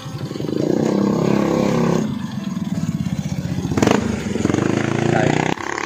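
A habal-habal motorcycle taxi engine runs close by, its buzzing note rising and dipping in pitch as it revs, with a brief clatter near the end.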